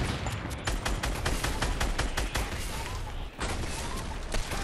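Dense, continuous gunfire and rapid shots from a Fortnite match, loud and sustained throughout with a brief dip near the end, while players' voices are faintly mixed beneath.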